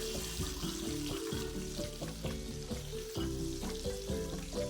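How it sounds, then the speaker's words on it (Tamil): Rock fish frying in groundnut oil, a steady loud sizzle and crackle throughout with occasional stirring sounds and no talking. "கடலெண்ணெய் சேர்த்து மீனை நல்லா ஃப்ரை பண்ணி எடுத்துக்கிற போகிறேன்"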